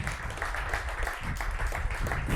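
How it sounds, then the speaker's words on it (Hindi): Sustained audience applause fills a hall, a dense steady wash of clapping from a large crowd at a talk. "ताली बजाओ भाई"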